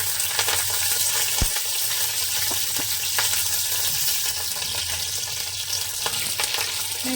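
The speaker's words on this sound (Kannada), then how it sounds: "ಮೆಣಸಿಕಾಯಿ ಫ್ರೈ ಮಾಡ್ಕೋತಾ ಇದ್ದಾರೆ." Green chillies frying in about two spoons of hot oil in a home kitchen, a steady close crackling sizzle with occasional sharp pops and faint stirring clinks.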